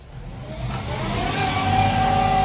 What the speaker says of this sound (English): The concrete truck has just arrived.